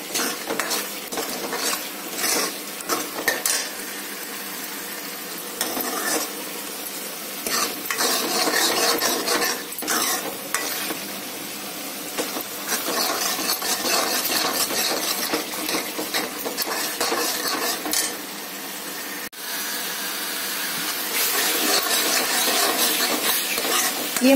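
Thick masala for dal makhani being stirred and roasted in a pan, a steady scraping stir with a soft sizzle underneath, close and continuous with brief pauses between strokes.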